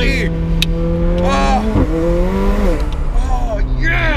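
McLaren 720S sports car accelerating hard, engine note rising through sweeping gear pulls with brief drops between shifts, loud and close from the cabin, with someone talking excitedly over it.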